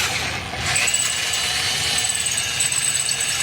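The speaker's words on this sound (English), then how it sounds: "Got a 1/2-inch drill bit loaded up next." A power drill with a 1/2-inch bit drills through a steel bracket on a Ford Super Duty truck, giving a continuous high whine over a rattly, grinding undertone with no pauses.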